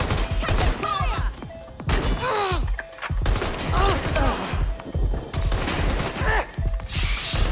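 Gunfire in Watch Dogs Legion arrives in rapid bursts of sharp, close shots interleaved with crashing impacts and chirping mechanical sounds, dense and loud throughout, with shouted voices in the mix.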